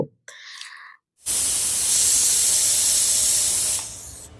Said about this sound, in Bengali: হয়ে গেল একটা সিটি, আর একটা সিটিও হলো।